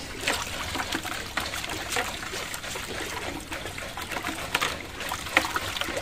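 Rotten vegetable water mixed with turmeric trickles and splashes steadily as it is poured onto potted bean plants in fruit crates on a rooftop, close and fairly quiet, with small irregular splashes throughout.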